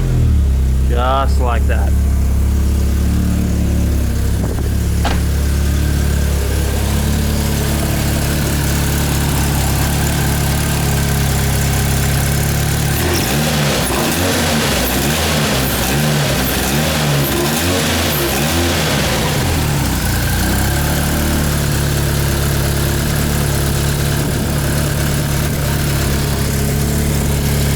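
Toyota car engine cranking and catching, then settling into a steady idle with a brief rev in the middle, loud and close, with someone talking over parts of it.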